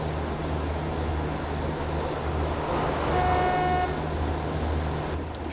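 Horn of a Pacer train in Train Simulator 2021 on the East Coast Main Line, one short steady tone sounding over the constant low engine drone and rumble of the moving train.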